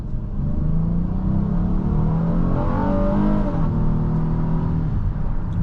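A 2024 Honda Odyssey Touring's engine pulling hard under acceleration, with a loud, steady induction drone rising smoothly in pitch from inside the cabin, no talking.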